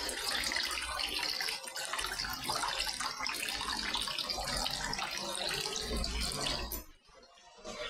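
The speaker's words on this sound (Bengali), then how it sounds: "আমি এক বাটি জল দিয়ে দিলাম।" A bowl of water goes into a cooking pot of sautéed taro and chicken in a steady, splashing pour lasting several seconds before it tapers off, heard close with no speech.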